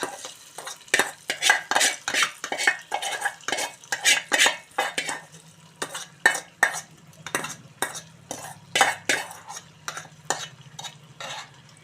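A spoon scrapes and clanks repeatedly against a metal pot in quick, irregular strokes as dried prawn and bottle gourd curry is stirred, with a soft sizzle underneath.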